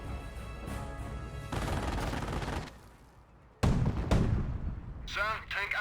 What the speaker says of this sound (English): Mortar just barraging this archway there